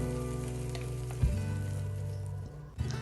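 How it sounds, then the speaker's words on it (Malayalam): Ginger, green chili and garlic sauté in a pan for fish curry, a close, continuous sizzle with a low hum beneath and a couple of brief scrapes as the mixture is stirred. "നമുക്കിത് നന്നായിട്ട് വഴറ്റി കൊടുക്കാം."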